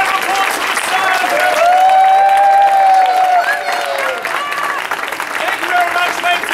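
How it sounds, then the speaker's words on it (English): Loud, full crowd applause greets the cast after a street-theatre Christmas Carol show at Epcot, with cheers and a voice carrying over the clapping before it tapers slightly. "have a round of applause for the stars"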